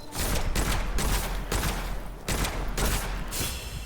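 Enemy gunfire from the FPS roguelike Witchfire, dense overlapping bursts of shots that rattle almost continuously, loud and close, with brief gaps between volleys.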